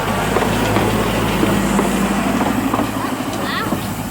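A diesel locomotive at a heritage railway gives off a loud, steady engine rumble with clattering undertones, heard close by and continuous, while voices faintly mingle in the background.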